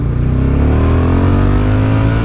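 A Suzuki TL1000R motorcycle accelerates hard, its engine note climbing steadily as it revs up. Loud and close, with no talking.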